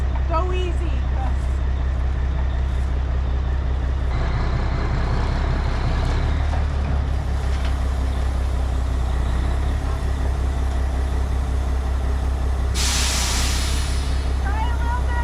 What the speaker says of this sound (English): Do you want to try backing up?